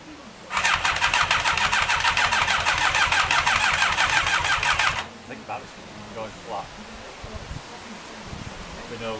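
Rebuilt Yamaha Thunderace motorcycle engine cranking loudly on its first start-up attempt, a rapid steady starter whirr lasting about four seconds before cutting off, followed by quieter background noise and people talking.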